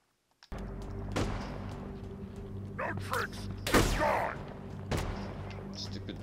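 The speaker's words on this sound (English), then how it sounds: "Stupid jackal shooting at me somewhere." Alien jackal enemy firing at the player in the video game Halo Infinite, a few sharp broadband bursts cutting over a steady low engine-like hum, with short chirpy effects between shots.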